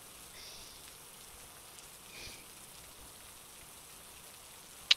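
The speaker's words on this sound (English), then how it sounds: "Love the rain." Rain from the weather expansion of the Breakaway Football board game falls as a soft, even patter with faint scattered drops, steady and low in level throughout.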